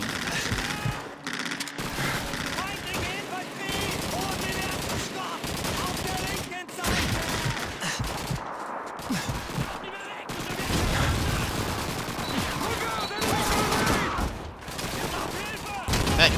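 Gunfire in the video game Call of Duty 2, Pipeline mission: dense, continuous bursts of rifle and machine-gun fire with explosive booms, loud and near throughout, with a player talking over it at times.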